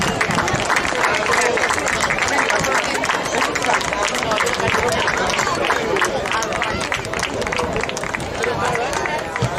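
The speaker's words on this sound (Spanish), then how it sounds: "Un aplauso para las campeonas." A large crowd applauds and cheers the women's champions at a handball club trophy ceremony in Moaña, a loud, dense and steady wash of clapping with murmuring voices that lasts throughout.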